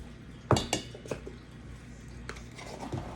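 Measuring a teaspoon of salt into a bowl of dry ingredients for banana bread, a sharp metallic clink of the spoon against the bowl followed by lighter taps and scrapes, close and quiet.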